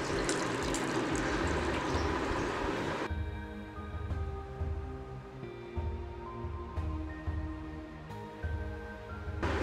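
Hot water pouring into a bowl of semolina, a loud, dense splashing stream for about three seconds, then quieter trickling and faint liquid sounds with a steady low hum underneath.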